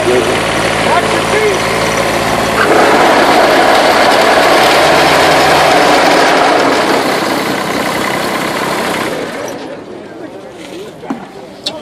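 A small diesel tractor engine idles at a farm equipment auction, its steady rumble running beneath an auctioneer's continuous calling before fading toward the end.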